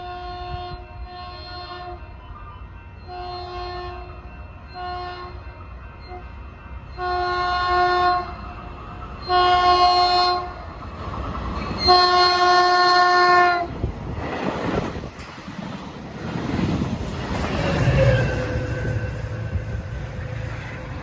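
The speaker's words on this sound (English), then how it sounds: "General Motors diesels that I'm blessed with." A Caltrain General Motors diesel locomotive sounds a series of loud multi-tone horn blasts, short then longer, before the train rumbles past with clattering wheels and fading roar.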